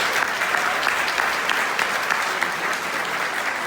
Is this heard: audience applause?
yes